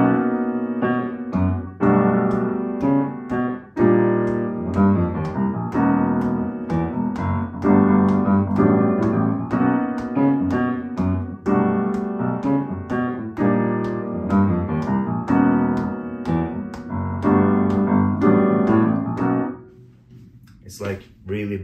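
A drum groove in straight 4/4 with a backbeat plays as a steady, evenly spaced pattern of hits over pitched, harmonic tones for about twenty seconds, then breaks off near the end.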